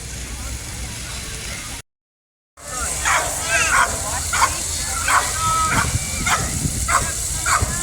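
A police K-9 dog barks in a string of sharp, evenly spaced barks during a Rapid City, SD demonstration, following a brief silent gap, over a steady outdoor background with voices nearby.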